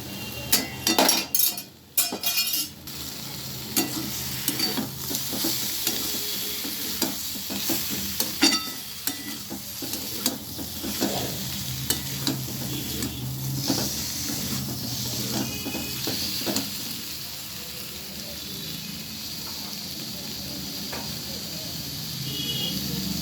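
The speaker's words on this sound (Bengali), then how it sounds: "এবারে আমি শিমগুলো দিয়ে দিচ্ছি।" Flat beans frying in spice masala in a pan, with a continuous hiss and sizzle, clattering stirs and clinks near the start, then steady frying with intermittent scrapes.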